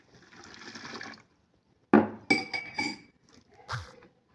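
Water is poured into a jug of sugar and basil seeds for sharbat, a short, close splashing pour followed by several sharp clinks of glass and kitchenware.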